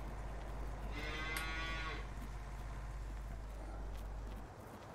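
Cattle mooing in the farming video game Farming Simulator 19, one drawn-out moo rising over a steady low engine-like drone and ambient farm noise.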